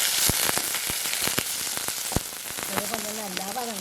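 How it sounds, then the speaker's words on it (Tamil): Onion, green chili and curry leaves sizzle and crackle in hot oil while tempering for a long tom fish curry, with dense spitting pops throughout and a voice talking over the frying toward the end. "இப்போ நாங்கள் தாளிக்க போகிறோம்."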